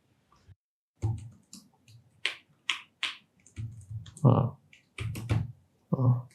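Laptop keyboard keys tapped in short irregular bursts of clicks while checking that the keyboard and cursor still work, close up, with people talking over and between the taps.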